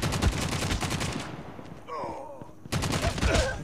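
Heavy weapon fire in a video game, rapid loud bursts of automatic shots that pause briefly for a stretch of quieter game sounds, then resume in another dense burst.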